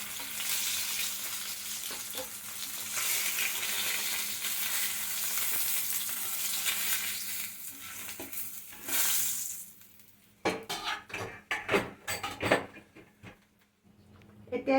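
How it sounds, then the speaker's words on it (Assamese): Catla fish pieces fry in hot oil with a steady, dense sizzle for several seconds before it fades, followed by clinks and stirring sounds of a pan. "এয়া আমি মাছখিনি ৰংচোৱা হোৱালৈকে ভাজি ল'লোঁ।"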